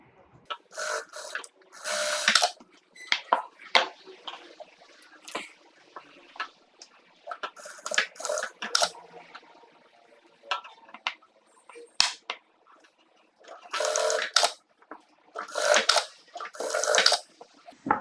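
A sewing machine roughly stitching a fancy blouse runs in short intermittent bursts with ticking and quieter handling sounds between them. It is close and moderately loud, with no speech.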